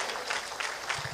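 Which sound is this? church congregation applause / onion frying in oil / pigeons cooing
church congregation applause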